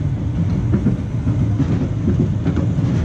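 A roller coaster train at Pleasure Beach slows as it runs into a helix, giving a loud, steady rumble with rhythmic clattering of wheels on track and no talk.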